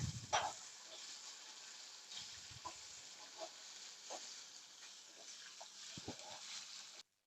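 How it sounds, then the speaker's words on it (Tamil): Mustard seeds and urad dal tempering in hot oil for a snake gourd masala stir fry, a steady close sizzle with a few faint pops and crackles, no talking. "எண்ணெயும் அது கூட வந்து கடுகு உளுத்தம்பருப்பு போட்டு இப்போ தாளிச்சிட்டு இருக்காங்க"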